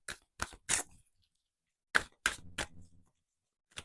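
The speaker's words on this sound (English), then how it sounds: "I'm going to continue shuffling" Tarot cards being shuffled by hand, crisp papery riffles and flicks in short separate bursts with quiet gaps between them, close and fairly soft.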